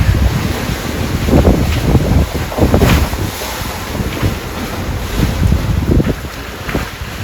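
Sailboat under way on open water, with steady wind rushing past the microphone and waves slapping and washing against the hull in irregular surges, loud and close.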